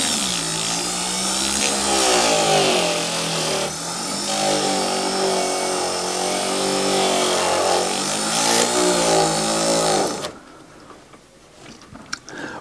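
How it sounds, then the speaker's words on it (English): Polishing wheel buffing metal jewelry leaves, a steady loud whirring grind with wavering pitch as the piece is pressed and shifted, then the wheel winding down and a few faint clicks at the end. "let's do a little quick polish on this before we start attaching any of the wires."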